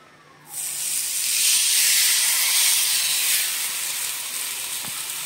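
Dhapate flatbread dropped onto an oiled tava breaks into a sudden loud, steady hiss of sizzling that swells, then eases slightly while staying continuous to the end.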